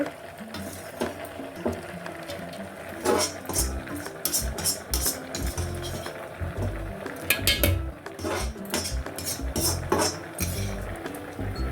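Roasted whole spices for a village-style mutton curry being tipped into a steel mixer jar, with repeated metallic clinks, scrapes and rattles of dishes and utensils close by, dense and continuous with no talking.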